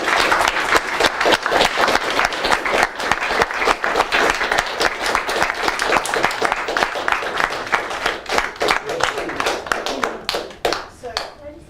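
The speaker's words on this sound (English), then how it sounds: "Let's give them a round of applause." A live indoor crowd gives a long round of applause, with dense, lively clapping that holds steady for about ten seconds before thinning to a few last claps.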